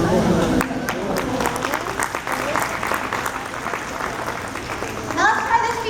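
Hand clapping and applause from the audience at a sea lion show in an aquarium. The clapping is loud and sustained, with children's voices mixed in, and a short burst of cheering comes near the end.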